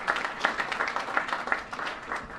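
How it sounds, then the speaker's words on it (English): Applause at an awards event honoring a mayor, with a steady wash of clapping under light crowd murmur for a couple of seconds. "So let's give Mickey Ibarra another big round of applause."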